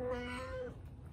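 Small kittens give a thin, high meow lasting under a second at close range, with no talking heard.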